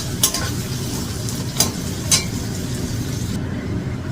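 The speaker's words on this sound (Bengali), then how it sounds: "এবার লাল লাল করে পেঁয়াজগুলো ভেজে নেব।" Onions fry in a pan for a duck meat curry with a steady sizzle, and a few sharp clinks of a spatula scrape and stir against the pan.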